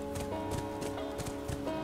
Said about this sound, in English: I don't want to leave the cute little horse.